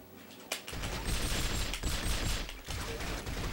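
Rapid video game gunfire in a shooter, a sustained, dense burst of automatic fire that starts abruptly and continues loud and close, dipping briefly before resuming.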